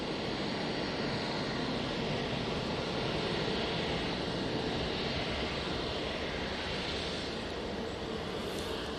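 A steady, broadband roar from a Virgin Atlantic Airbus A350 on short final to runway 23R at Manchester Airport, holding at a fairly constant level throughout with no talk over it.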